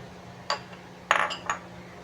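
A spoon clinks against a bowl while a marinade of spices, ginger garlic paste and yogurt is mixed, giving a few sharp metallic taps close by with quiet gaps between them.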